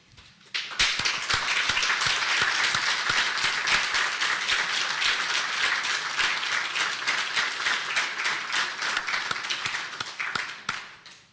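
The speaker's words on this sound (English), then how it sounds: "let's give them a round of applause." A crowd at a remembrance ceremony applauds standing veterans: clapping starts abruptly, stays full and sustained for roughly ten seconds with scattered sharp individual claps, then tapers off.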